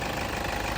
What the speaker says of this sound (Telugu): ఇంజన్ చాలా స్మూత్గా ఉందండి. బండి వెహికల్ రన్నింగ్లోనే ఉంది చూడండి.